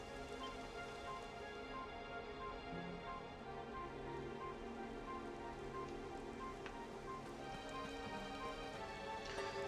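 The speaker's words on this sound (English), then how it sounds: "It would have to go and start raining, wouldn't it?" Rain falls steadily in the video game Dragon Quest XI: Echoes of an Elusive Age, a soft, even patter held low and constant under faint tonal game music.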